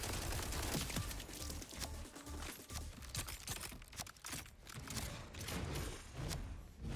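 Enemy gunfire in the video game Borderlands 4, a dense, continuous barrage of overlapping shots and thuds that fills the whole stretch with no pauses.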